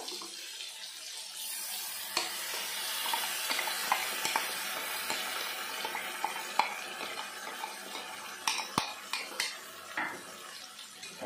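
Spice paste is stirred into a frying pan with tomatoes while cooking Bengali rui posto, a rohu fish and poppy-seed dish. Soft continuous scraping and sizzling carry irregular metallic clinks of a utensil against the pan.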